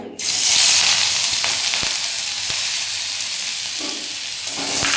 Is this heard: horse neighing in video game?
no